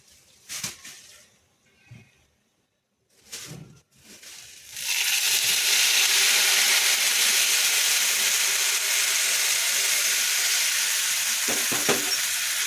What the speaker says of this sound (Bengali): এইভাবে অল্প অল্প করে পুরো দুধটাই আমি ঢেলে দেব